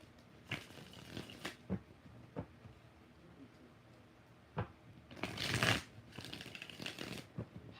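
Tarot cards being shuffled by hand, several quick riffles and soft slaps of the deck, close and quiet, with a longer riffle burst partway through.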